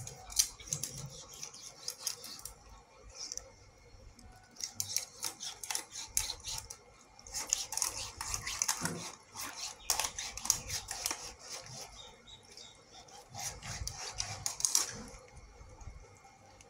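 A knife cuts the belly piece from a large fish, giving close, irregular scraping and slicing strokes in bursts, with no talking.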